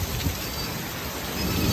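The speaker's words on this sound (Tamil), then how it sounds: "மிக கடுமையான இடியும் மின்னலும் கூடிய மழை அதுராம்பட்டினத்தில் இருபது நிமிடமாக பெய்து கொண்டிருக்கின்றது" Heavy rain pours steadily in Adirampattinam during a thunderstorm, a dense continuous hiss with low rumbling beneath, fairly loud and unbroken throughout.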